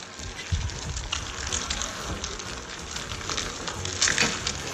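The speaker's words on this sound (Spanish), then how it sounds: "un policía friendo un huevo en el capó del coche" An egg fries on a hot car hood in the sun, making a faint, crackling sizzle with scattered pops and a little background noise.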